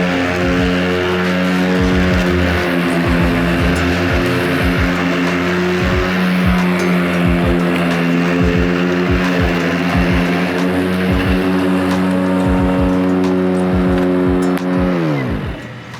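A lawn tractor mows tall grass with its deck set low at 1.5 inches, moving slowly; a loud, steady engine drone with strong harmonics holds throughout, with brief thumps, then winds down at the very end.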